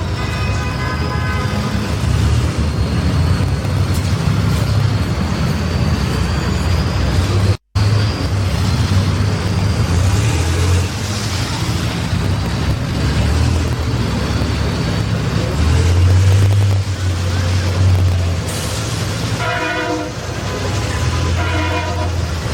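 Buses rumble around the track on pace laps at the Freedom Factory before a figure 8 bus race, with loud engine drone, horn toots and crowd-level roadway noise throughout, one brief dropout mid-way.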